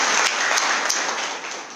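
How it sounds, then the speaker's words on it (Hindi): Audience applause at a satsang forms a steady, dense wash of many hands clapping together, moderately loud and continuous, with no speech over it. "प्यारी सी ताली बजाओ छोटे राम जी"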